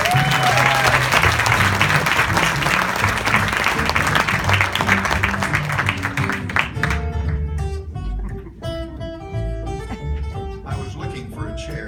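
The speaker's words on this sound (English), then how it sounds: "give a big round of applause for my dad, Larry Hansen" A crowd applauds at a family Christmas poetry performance, broad steady clapping that carries on under musical tones which rise clearly as the clapping thins toward the end.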